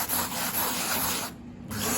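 Close, rough scraping of sandpaper sanding rust off the metal gas tank of a 1960 Volkswagen Beetle in continuous back-and-forth strokes, briefly pausing near the end before resuming.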